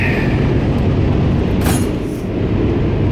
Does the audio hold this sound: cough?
no